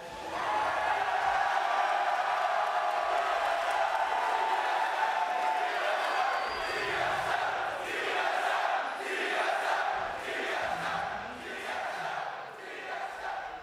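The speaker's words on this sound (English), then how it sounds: "chant for TSM." A large esports arena crowd at a TSM versus CLG finals roars and chants for TSM, a loud, dense wall of cheering with rhythmic shouted chant pulses rising and falling throughout.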